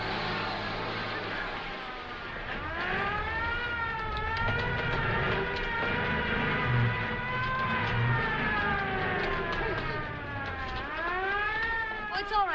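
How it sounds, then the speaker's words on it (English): An air raid siren wails at night, its rising and falling tone sustained and fairly loud over background commotion, with people talking throughout. "Don't you hear that siren? That means maneuvers are starting."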